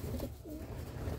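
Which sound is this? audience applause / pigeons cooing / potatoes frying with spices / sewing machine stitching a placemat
pigeons cooing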